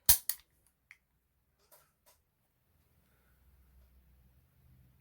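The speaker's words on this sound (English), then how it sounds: "So depressing the release button, the mag will release, and we make sure the gun is empty, which it is." A CZ75 pistol being unloaded and checked: a sharp metallic click as the magazine releases, a second click right after, then a few softer handling taps. A faint low rumble fills the end.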